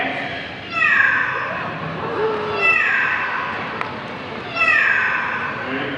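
A parrot at a Singapore bird park imitates a cat's meow, giving three drawn-out, wavering mewing calls spaced evenly apart, fairly close and clear, against a faint murmur of people in the background.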